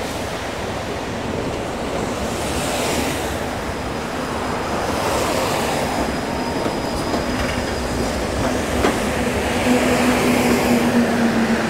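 A tram rolls into a city stop with a low rumble and rattle of wheels on rail, building gradually. A thin metallic squeal rises near the end as it slows.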